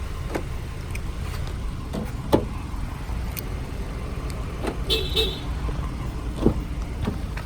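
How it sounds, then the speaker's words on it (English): A 2016 Honda Accord engine, started by remote, runs steadily at idle, a low continuous rumble with a few faint clicks and small knocks on top. "Okay, the car right now is running by remote control."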